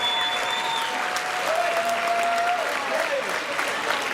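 Sustained audience applause ringing out for two young boxers after a five-round amateur bout, steady clapping filling the hall throughout, with faint whistles or tones drifting above the crowd noise.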